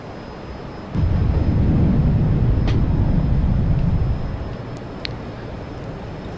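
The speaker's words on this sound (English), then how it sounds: "Just gotta love this plane with its burners on" Grumman F-14X Tomcat jet engines roar with afterburners lit in a flight simulator, a steady loud broadband rumble that kicks in abruptly and then eases to a lower drone.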